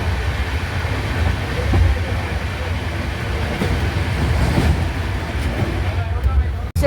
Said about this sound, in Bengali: এবার আমাদের সাথে দেখা হবে train number 15926 Dibrugarh Deoghar express